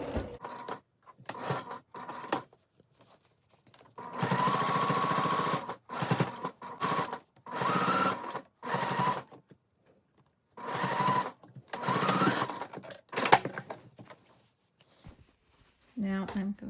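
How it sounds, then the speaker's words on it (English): A sewing machine stitches down a pair of reversible Lilly shorts in several bursts of steady whirring, with short pauses between runs and some quiet speech in the gaps. "I'm going to stitch down from where I pinned"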